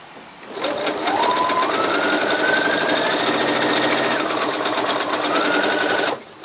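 Sewing machine stitching oven mitt fabric, first back stitching then running forward, a loud continuous motor whine whose pitch rises and falls with speed for about five seconds before cutting off.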